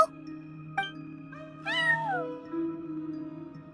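A cat meows in the Genshin Impact video game, one drawn-out rising and falling meow standing out clearly over a steady, low musical background hum.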